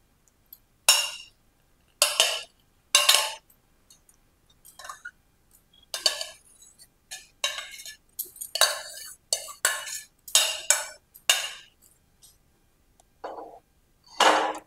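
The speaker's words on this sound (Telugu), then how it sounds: "ఈ రైస్ని మనం తీసి కుక్కర్ ఓపెన్ చేసుకొని ఈ రైస్ని మనం ఈ బౌల్లోకి తీసుకోవాలి" Cooked rice is scooped from an opened pressure cooker into a bowl for pulihora, a series of sharp metal-on-metal scrapes and clinks of a spoon against the pot in irregular bursts, close and otherwise quiet.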